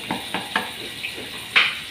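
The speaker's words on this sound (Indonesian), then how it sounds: "Oke, kita goreng-goreng." Food frying in a pan during open-air field cooking: a steady sizzle with repeated scraping and clinking of a utensil against the pan, close and fairly loud.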